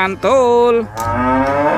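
A toy cow gives a loud, drawn-out electronic moo, starting with a short low note and rising into a long sustained call, with a second softer moo trailing after; someone briefly exclaims at the end.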